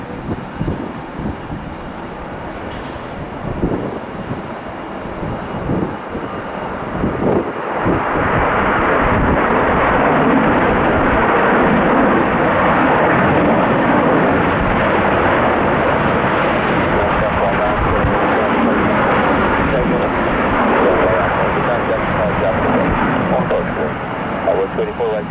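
A Boeing 737 jet airliner at Tampa airport in gusty windshear conditions gives a distant engine rumble that swells into a loud, steady roar halfway through, with radio voices heard early on.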